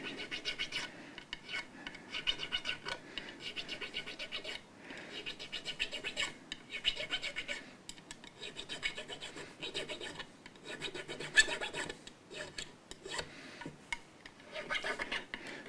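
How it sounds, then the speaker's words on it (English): Sandpaper rubs over the fret ends of a Telecaster-style guitar during a re-fret, a quiet rhythmic rasping in repeated short strokes and bursts. "I've usually run several bits of sandpaper over the ends, softening out the ends in stages"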